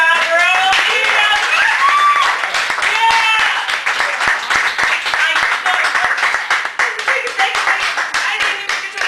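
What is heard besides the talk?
audience applause and clapping after a poetry feature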